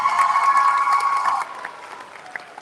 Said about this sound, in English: Get Miss Shelby around the applause.